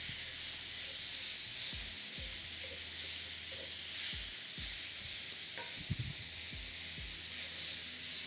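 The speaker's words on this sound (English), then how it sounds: "I'm going to add the rest of the butter" Butter sizzles steadily in a hot pan for Brazilian savoury pancakes, a constant close hissing crackle with a few low thumps and clinks of the pan, no voices.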